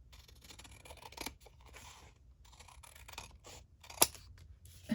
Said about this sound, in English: Sometimes I can use my scissors.